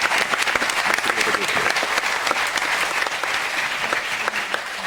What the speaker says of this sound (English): they deserve a big round of applause for making it to the final.